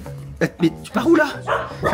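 A small dog gives a few short, close yips and barks over a couple of seconds, mixed with people speaking nearby.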